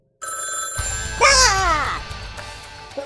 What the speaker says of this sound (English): We've got an incoming phone call.